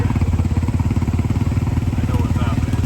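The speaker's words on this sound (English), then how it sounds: "They know the sound of that buggy." A buggy's engine runs at a steady, rhythmic chugging idle close by, a continuous low pulsing rumble with people talking over it.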